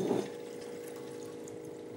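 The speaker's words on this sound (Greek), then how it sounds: "Τώρα να μπορούμε να το χύνουμε." Filtered water from a home water filter pours in a steady, continuous stream, with a louder splash at the start that settles into an even trickle.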